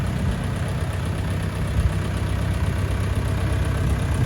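A DTZ 5404 K mini tractor engine runs at a steady idle, a constant low rumble with no voices.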